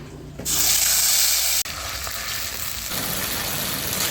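Ginger paste hits hot oil in a pan with bay leaf, whole garam masala and sugar, setting off a loud sizzle that briefly cuts out, then settles into steady frying with no voices.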